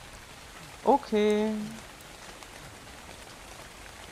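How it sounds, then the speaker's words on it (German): Steady soft rain hisses throughout in the survival game ARK, a quiet even wash of falling drops, briefly overlaid by a short spoken word. "Ansonsten haben wir halt nur das Regengeräusch."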